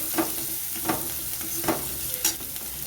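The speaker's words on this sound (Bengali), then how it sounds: "পেঁয়াজটাকেও আমি কিছুক্ষণ ভেজে নেব" Onions fry in hot oil with garam masala for a potol-prawn dish, a steady close sizzle broken by four evenly spaced spatula strokes scraping the pan, with no talk.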